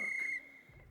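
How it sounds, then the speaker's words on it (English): A dwarf blows a rune-decorated whistle in Pathfinder: WotR, giving one piercing, steady high trill that holds for under half a second and then cuts off, leaving a quiet low hum. "pulling a whistle decorated with runes from his pocket, the dwarf brings it to his lips and produces a high-pitched trill"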